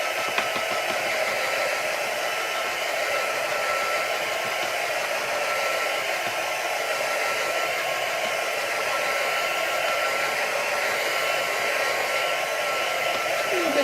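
A hair dryer blows in a steady, loud, unbroken whoosh as it dries a mixed media art piece made with stencils and black and white paint.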